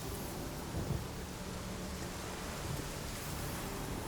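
A thunderstorm in The Witcher 3: Wild Hunt: a steady wash of heavy rain with low, rolling thunder rumbling underneath, at an even, continuous loudness throughout.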